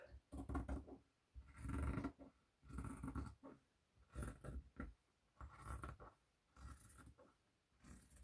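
Scissors snip through fabric to cut out a paper-pattern template for a table napkin, a series of about seven scratchy cutting strokes in short bursts, close and fairly quiet, with brief pauses between.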